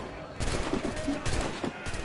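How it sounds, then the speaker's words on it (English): A ship-mounted puckle gun firing during a naval fight in Assassin's Creed Rogue, heard as a series of rapid booming shots over a busy battle din. "We use the puckle gun, it saves us going on board."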